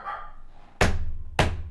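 A dog gives two loud, sharp barks close by, about half a second apart, each ringing briefly in the room after a quiet moment.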